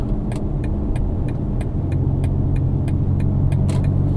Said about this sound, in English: the sound the exhaust produces, fantastic